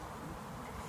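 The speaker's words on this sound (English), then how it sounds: "make sure we transfer all these bees" Honeybees buzzing during a nucleus hive transfer, a dense, continuous drone of many bees close by, steady and unbroken.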